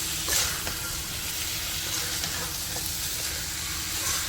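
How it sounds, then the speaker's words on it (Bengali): Curry sautéed in a pan gives off a continuous, even sizzle and hiss with a few faint scrapes of stirring, close by and moderate in level, with no voice. "অনেকক্ষণ কষে নিচ্ছি"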